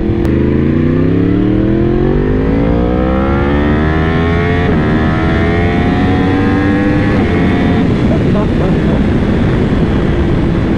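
Yamaha R1M motorcycle fitted with carbon fiber winglets, heard from the rider's seat as the engine climbs steadily through the gears with rising pitch and loud wind rush, continuous and close.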